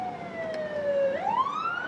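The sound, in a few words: police car siren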